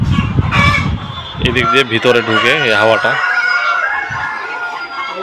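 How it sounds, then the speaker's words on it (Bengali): Chickens cluck and crow inside a controlled poultry shed, with loud bird calls clustered in the middle of the clip while someone talks over them near the microphone. "তো এই যে মুরগি"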